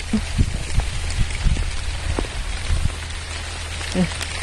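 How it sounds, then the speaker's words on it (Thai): Heavy rain pours down steadily on a rice field during harvest in a dense hiss, with scattered drops and spatters striking a surface nearby, loud and continuous. "ฝนตก ฝนตก"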